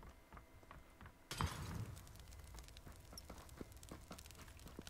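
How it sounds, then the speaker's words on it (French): In the video game PUBG, a molotov cocktail smashes with a sudden bright glassy crash, followed by a steady crackling, hissing burn with scattered small pops. "C'est qui a envoyé un molotov?"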